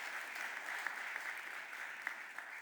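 Applause from an audience at a Philadelphia City Council budget address, steady and fairly faint, with a continuous wash of clapping and a few sharper individual claps standing out.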